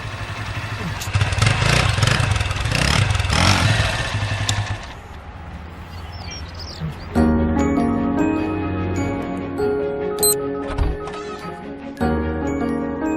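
A battered old scooter engine sputters to life and revs, rough and loud up close, then drops back among clattering rattles and other tonal sounds, with no one speaking.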